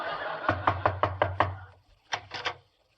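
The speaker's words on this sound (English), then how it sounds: "I'll knock." Knuckles rapping on a wooden door, a quick series of six sharp knocks, a pause, then three more, close and fairly loud with no talk.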